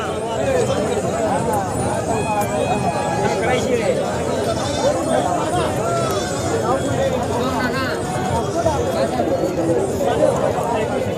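Goats bleating repeatedly amid a busy crowd at a goat market in Sangola, with people chattering all around in a noisy outdoor gathering.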